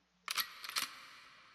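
A quick metallic double click-clack of a gun being cocked, two sharp snaps close together followed by a brief fading ring.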